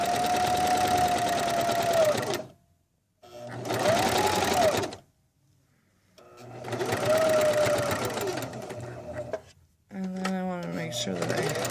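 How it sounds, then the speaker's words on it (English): A sewing machine stitches a seam on a DIY cozy area rug in several long whirring runs with short pauses between them, close and loud, with someone talking over and between the bursts. "So I'm going to sew right to here."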